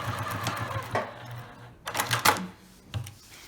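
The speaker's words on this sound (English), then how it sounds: "And now I'm going to give it a back stitch." A sewing machine back stitches a lined tote bag with boxed corners in short, separate bursts of close mechanical tapping and clatter, with quiet gaps between runs and no talking.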